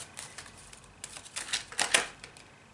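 Tarot cards are shuffled and drawn in soft, quiet bursts of papery riffling and flicking, with brief clusters of rapid snaps, close and faint in a calm room.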